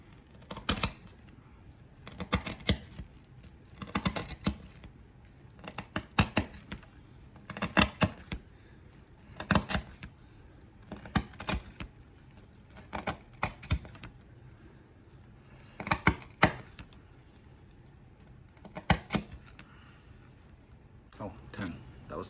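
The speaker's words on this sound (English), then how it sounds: "This rope's kind of hard to cut." A Sodbuster Jr knife cuts hard rope in repeated short sawing strokes, sharp scraping bursts about every second or two with quiet gaps between them, close and fairly soft.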